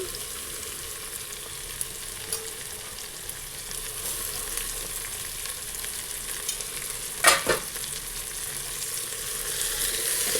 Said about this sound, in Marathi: असं टाकून छान परतून घ्यायचं भाज्या तेलावरती भाजून घ्यायच्या